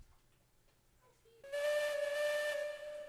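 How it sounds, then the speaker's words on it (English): A steam locomotive whistle in the video game Railroads Online sounds one clear, steady, tonal blast that lasts over a second, after a quiet moment, with a slight hiss beneath it. "I hear the whistle."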